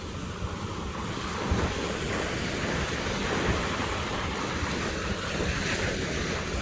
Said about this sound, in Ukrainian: Тікай, тікай, хвилі тебе зараз накриють.